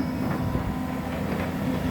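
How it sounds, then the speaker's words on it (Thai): A new CAT 323 GC excavator with a six-cylinder turbo engine and a 1.3-cubic-metre bucket, trimming a pond slope in the rain, gives a steady hydraulic pump whine over a continuous engine drone, close and unbroken, with no talking. "จะได้ยินเสียงครางของปั๊ม"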